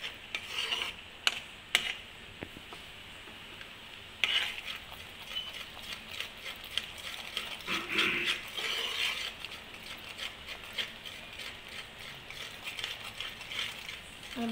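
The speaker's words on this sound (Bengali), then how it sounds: "দেখুন চিনিটা আমার ক্যারামেল হয়ে আসছে" Sugar caramelizing in a pan while making red mishti doi: a steady, faint sizzling hiss with scattered metallic scraping and clinks of a spoon stirring, no voices.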